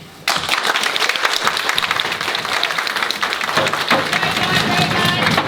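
Audience at a mock trial of Mr. Bigby Wolf bursts into sudden loud, dense applause that continues steadily for about five seconds.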